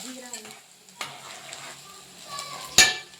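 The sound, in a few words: cumin seeds crackling in hot oil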